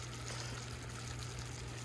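Caramel sauce boiling undisturbed in a pot on the stove, a faint, steady bubbling hiss with a low background hum and no voices.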